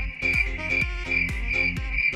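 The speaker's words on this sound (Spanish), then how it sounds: "Y ahora tendría que salir el ruido de los grillos aquí." A cricket chirps as an inserted comic sound effect, a clear steady pulse of bright trills repeating about twice a second over a low thumping beat, loud and close.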